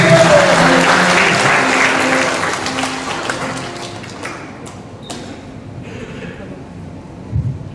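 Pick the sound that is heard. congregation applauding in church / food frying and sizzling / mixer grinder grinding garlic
congregation applauding in church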